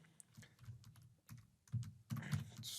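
Quick bursts of typing on a computer keyboard, close and fairly quiet, with irregular clusters of key clicks and short pauses between them.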